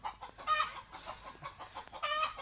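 A chicken clucks in agitated bursts, a few sharp squawks rising and falling, fairly close, with no talking.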